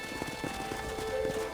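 Rapid rhythmic hoofbeats of a galloping horse in Red Dead Redemption, steady and close, over a faint synthetic background hum.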